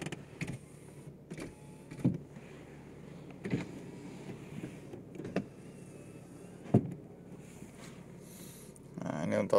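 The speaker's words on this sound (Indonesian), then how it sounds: "kanan kiri oke ya untuk power windows mobil baru ya" The power windows of a used car for sale hum up and down in a few short electric motor runs. Clicks and soft knocks come between them, and someone talks in the background.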